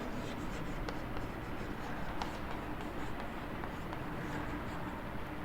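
Chalk or marker scratching on a board during a physics lecture on heat engines, a steady faint scraping with short strokes over a constant room hum, no voice.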